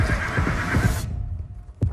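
A horse neighs in a loud, close whinny lasting about a second, followed by a low throbbing heartbeat-like pulse and a brief thump.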